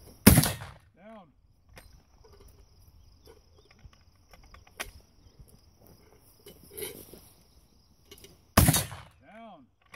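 Two loud, close gunshots ring out in a shooting video game, one at the start and one near the end, each followed by a ringing echo. Faint clicks, light footsteps and soft game noises fill the gap between them.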